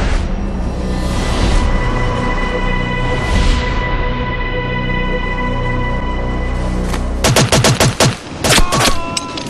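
Gunfire rings out in a reenactment of an Israeli hostage rescue from hijackers. A sustained loud rumble gives way near the end to rapid bursts of closely spaced shots, loud and near.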